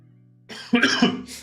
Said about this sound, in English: excuse me for coughing and spluttering for the next 2 hours